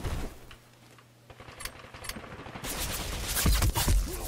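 Gunfire in the video game Tom Clancy's Ghost Recon Phantoms: a few isolated shots early, then a loud cluster of close, overlapping bursts near the end, with no talking.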